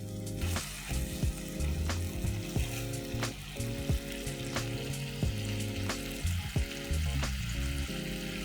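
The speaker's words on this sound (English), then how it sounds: "Let's stir this well and cook this precisely for 4 minutes." Pulimunchi fish curry sizzling and bubbling in a pan over a medium flame while being stirred, with a steady frying hiss and occasional scraping spoon clicks throughout.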